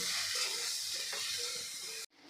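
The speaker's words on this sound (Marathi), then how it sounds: "इथे आपण सगळा मसाला हा कारल्याच्या फोडींना लागेल अशा पद्धतीने आपण परतून घेतलेला आहे" Bitter gourd pieces coated in spices are stirred and sautéed in a pan over a low flame, with a continuous soft sizzle and light scraping that stops abruptly near the end.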